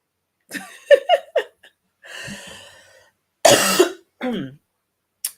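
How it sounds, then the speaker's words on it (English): A run of several harsh coughs close to the mic, a few quick bursts then a longer breathy one, followed by a couple more coughs with pauses between. "my cough is getting worse"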